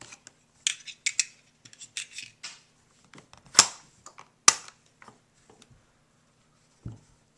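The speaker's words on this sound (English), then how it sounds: "The only way to close the bolt is to actuate the bolt release." A Marlin 795 semi-automatic rifle has its bolt release worked, giving a scatter of small metallic clicks and handling noises with two sharper snaps as the bolt slams closed, close and otherwise quiet.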